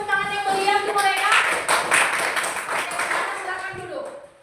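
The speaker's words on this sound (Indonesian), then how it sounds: "kita berikan tepuk tangan yang meriah untuk mereka" Students in a classroom get a round of clapping, dense hand claps over a voice talking at the start, then thinning and fading toward the close.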